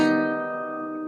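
A guitar chord strummed on the inside four strings rings out clearly and alone, a single bright attack decaying smoothly over about a second.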